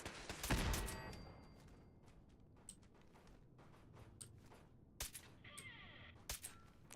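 Gunfire in Fallout 4 with a loud burst of shots at the start, then scattered single cracks and clanks over a steady background.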